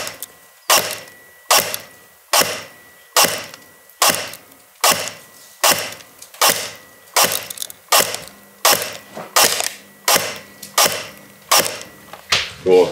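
Sixteen sharp shots from a Begadi M14 Socom airsoft rifle fired through a chronograph, evenly spaced with a slight mechanical clack after each, loud and close with no talk.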